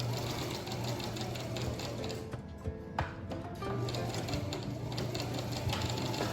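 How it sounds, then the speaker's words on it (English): A sewing machine stitches a continuous placket in a steady, close, fast rhythmic whir that runs nearly the whole time, pausing briefly in the middle before resuming alone. "Make sure you back stitch when you're done."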